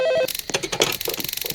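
A telephone in the Roblox game Midnight Cop rings loudly and close, a short electronic ring followed by rapid pulsing trill tones, with no talk over it.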